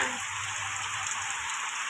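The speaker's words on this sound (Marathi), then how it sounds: "पाऊस एवढा झोडपतोय ना भाजीला चालूच आहे" Dense, steady monsoon rain in Konkan hisses without a break, a constant wash of drops hitting surfaces all around.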